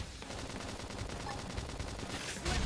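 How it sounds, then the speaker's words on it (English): Sustained rapid gunfire from a squad battle in the Xenoblade Chronicles X video game, a continuous loud stream of shots with a dense rattling pulse throughout. "Now, topple them with some gunfire."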